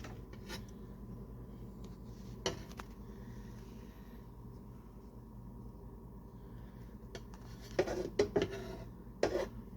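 Metal egg rings are set into a frying pan while cooking breakfast with red bell peppers and eggs, giving a few light clinks and scrapes, most of them clustered toward the end over a low kitchen hum.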